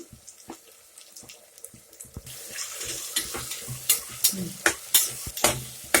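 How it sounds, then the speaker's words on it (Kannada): Chopped tomato with salt roasts in a pan on the stove, a soft sizzle under repeated scraping stirs that grow louder and more rhythmic toward the end, close and without talk. "ಇದು ಸಾಲ್ಟ್ ಹಾಕಿ ಸ್ವಲ್ಪ ರೋಸ್ಟ್ ಮಾಡ್ತಾ ಇದ್ದೀನಿ"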